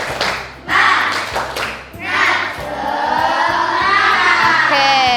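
A classroom of students performs a rhythmic spirit clap, loud and close, with sharp patterned bursts of clapping in unison and a continuous crowd-like wash of hands.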